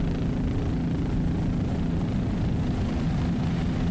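A 38-foot Cigarette powerboat with Mercury engines races offshore, a loud, sustained low engine roar that drones evenly throughout with no voices heard.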